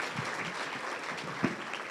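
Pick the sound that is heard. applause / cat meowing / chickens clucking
applause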